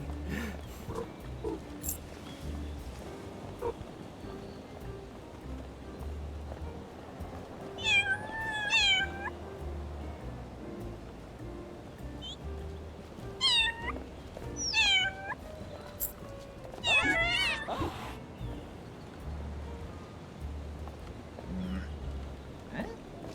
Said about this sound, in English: Meow 10 times in a row.